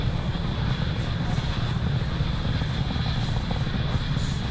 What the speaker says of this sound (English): So the engines are coming back up to full power.